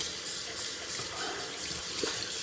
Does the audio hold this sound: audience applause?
no